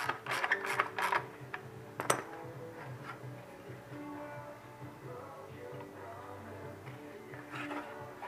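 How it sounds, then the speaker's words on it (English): Ratchet clicking in short bursts while three bolts are tightened on the hold-down of a Trans Am heater core, close and fairly quiet, with brief louder clatters early on and a low steady background hum. "Slide in the core, add the hold down, and then tighten all three bolts."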